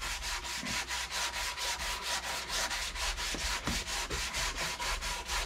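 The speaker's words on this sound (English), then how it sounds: "a lot of sand, or a lot of sawdust coming off of it" Hand sanding of a wooden electric guitar neck, steady rhythmic rasping strokes repeating back and forth at a close, even level, with no voices.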